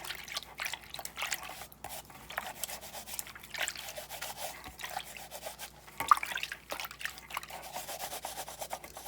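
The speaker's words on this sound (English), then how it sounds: "rinse this off." Water runs and drips faintly as acid etching cream is rinsed off glass, with soft rubbing and splashing throughout.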